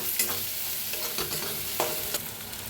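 Spices with red chili powder and turmeric being stirred into a vegetable in a hot pan, a steady sizzle broken by repeated quick spatula scrapes and taps at an uneven rhythm, close and with no speech.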